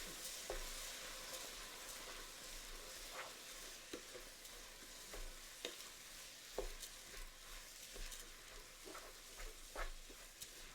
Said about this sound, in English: And stir for about a minute.